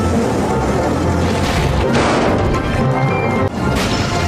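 Loud crashing and banging clatter of toy trains in a dense burst, with thuds and smashes piling on each other and a sharp crash near the end.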